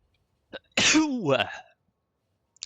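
A single loud, close sneeze, a quick inhaled catch followed by a sharp explosive burst, with a few faint clicks around it.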